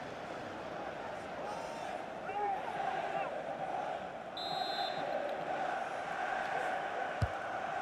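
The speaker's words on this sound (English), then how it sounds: "The crowd encouraging him to take it on" Stadium crowd in FC 24, Portugal versus France at UEFA EURO on PS5: a continuous roar of supporters urging a player on, rising a little toward the end, with a faint sharp knock near the close.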